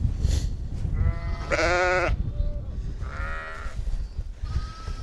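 Sheep and lambs bleat in a bedded pen during lambing season, several loud, wavering calls at close range over a low, rumbling background.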